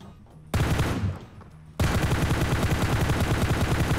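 Gunfire in a shooting game's training room: a short automatic burst, a brief pause, then sustained rapid machine-gun fire rattling loudly and evenly at close range without letup.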